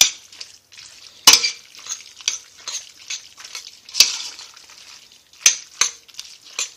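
Tomato sauce cooking in a pan gives a soft, wet sizzle broken by stirring scrapes and a few sharp utensil clinks against the pan, close and without talk.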